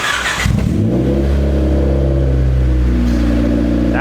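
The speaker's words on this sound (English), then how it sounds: "case you're wondering what a D15 sounds like with no muffler, just res, this is what it sounds like." A 1994 Honda Del Sol with a D15 engine, exhaust running no muffler and only a resonator, revs up from idle into a strong sustained rev, loud and close, with no voices over it.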